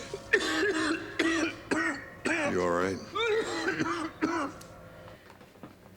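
A man in a TV show coughs and clears his throat in several rough, harsh bursts, mixed with strained vocal sounds, while someone briefly speaks nearby.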